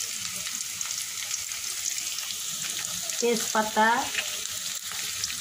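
Bay leaf, cinnamon, cloves and cardamom frying in hot oil for a chickpea dal with chicken neck and head, making a steady close sizzle as they are stirred, with someone talking briefly over it.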